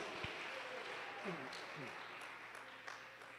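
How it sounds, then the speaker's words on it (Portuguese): Church congregation applauding in praise during a live evangelical service, a sustained, fairly faint wash of clapping with voices talking over it. "dá uma salva de palmas e um glória bem alegre para louvar o nosso Senhor Jesus"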